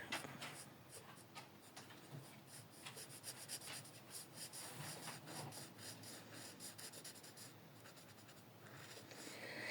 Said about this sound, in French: je vais me prendre un feutre à alcool pour faire l'intérieur